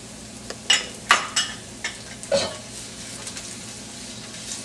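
Garlic browning in a pan for papaitan, a soft continuous sizzle broken by several sharp scrapes and clinks of a spatula or spoon against the pan, close by with no talking.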